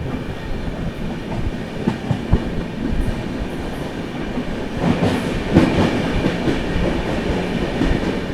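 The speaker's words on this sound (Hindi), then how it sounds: "यहाँ पर अपनी झारखंड संपर्क क्रांति एक्सप्रेस स्किप करती हुई भभुआ रोड" Jharkhand Sampark Kranti Express running through Bhabua Road station without stopping, steady rumble of wheels on rails with rhythmic clickety-clack that grows louder past the midpoint, heard from aboard the moving train.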